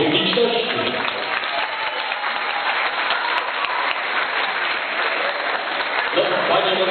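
Audience applause at a fashion show featuring women over fifty, a steady dense wash of clapping that fills the room throughout, with faint talk underneath.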